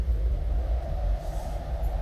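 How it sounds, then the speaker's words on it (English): A train in a video game rumbles along continuously with a heavy low drone and faint rhythmic clatter, steady and close. "How am I on a train now?"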